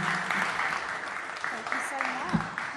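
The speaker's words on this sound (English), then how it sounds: "Another round of applause for Eerie Essex, please." A live audience at a spooky-tales podcast recording claps in sustained, dense applause, with voices and cheers mixed in throughout.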